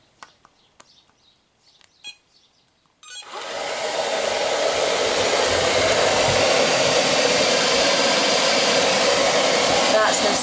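Ilife V3s Pro robotic vacuum cleaner running on a laminate floor scattered with crumbs, dust and fluff: a steady, loud whirring suction drone starts abruptly after a few seconds of faint sounds and continues unbroken.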